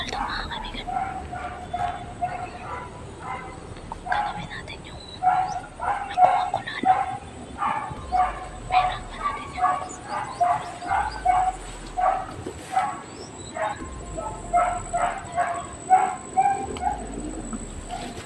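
A dog barks repeatedly at a distance in an outdoor area, with faint, evenly spaced barks continuing for a long stretch while someone speaks softly over them.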